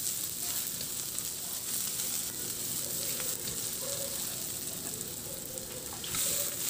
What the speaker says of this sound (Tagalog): Ihalo lang din hanggang sa maluto yung sibuyas.